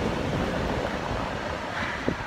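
Surf washes steadily onto a pebbly beach, a close, broad rushing roar mixed with wind buffeting the microphone, with no speech.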